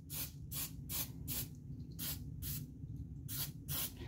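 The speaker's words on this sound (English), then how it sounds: "So this is just a simple spray." Ballistol aerosol spray cleaning a Browning Buck Mark pistol, heard as about seven loud, close hissing bursts in a steady rhythm, each lasting a fraction of a second, with no talking.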